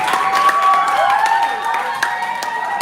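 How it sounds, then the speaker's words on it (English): Round of applause with cheering from a youth convention audience in a hall, clapping dense and fairly loud for a few seconds, mixed with shouts and a few high voices. "A round of applause for anybody that has built a web app today"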